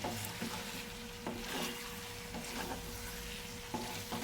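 Spices being stir-fried in a pan until deep red, a continuous close sizzle with periodic scraping strokes of the spatula, steady and fairly quiet.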